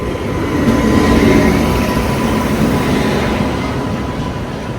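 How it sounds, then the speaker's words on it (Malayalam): The Gautami Superfast Express runs through heavy fog with a steady, loud rumble of wheels on rails and a faint rhythmic clatter, continuous and close as if heard from on board. "ഇതാണ് ഗൗതമി സൂപ്പർ ഫാസ്റ്റ് എക്സ്പ്രസ് കേട്ടോ"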